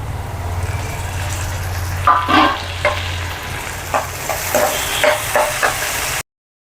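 Onions and tomatoes sauté in a pan for mutton curry, a steady close sizzle with a low hum early on, then a run of sharp scraping stirs against the pan before sudden silence.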